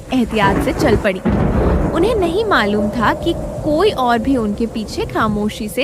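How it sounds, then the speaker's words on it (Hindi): Steady rain with low thunder rumbling beneath a storm, continuous and fairly loud throughout, running under someone narrating a story in a calm voice. "बारिश की आवाज गूंज रही थी"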